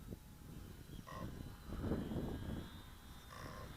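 A HobbyZone Sport Cub S2 RC plane flying overhead at half throttle on a Sunday afternoon, giving a steady electric motor whine over broadband wind noise that swells and fades slightly as it passes.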